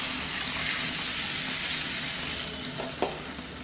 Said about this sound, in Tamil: இப்போ புளி கரைச்சி தண்ணி,